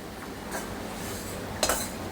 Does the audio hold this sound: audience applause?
no